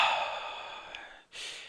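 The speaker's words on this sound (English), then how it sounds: "let me take a deep breath" A person draws one long, slow breath in, then lets out a brief airy exhale after a short pause, close and fairly quiet.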